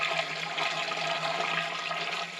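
Coolant pours from a gallon jug into the radiator of a 1936–1959 Caterpillar D4 crawler tractor, making a steady, close gurgling rush of liquid that continues throughout.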